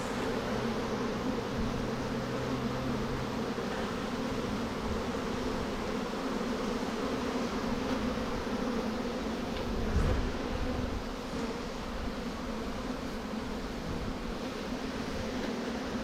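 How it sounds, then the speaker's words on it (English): A steady, dense insect hum of a swarm of bees buzzing close by around a tree, continuous throughout with a brief low thump partway through. "This is like the hardest tree to get bees off of."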